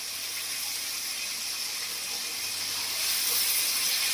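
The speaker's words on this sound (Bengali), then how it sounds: "এবারে আলু দিয়ে দেবো।" Boiled potatoes tipped into a hot pan for a vegetable and chickpea puffed-rice fry give off a steady, close sizzling hiss. It grows slightly louder near the end, with no talking.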